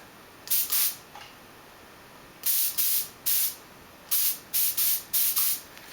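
Spray gun applying paint to a part for a homebuilt composite plane, in a series of short hissing bursts, two early and then several clustered later, close and fairly loud with quiet gaps between.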